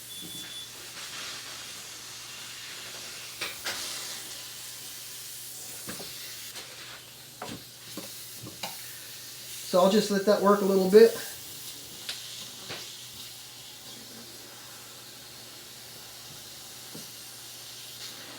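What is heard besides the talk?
steam hissing into guitar neck joint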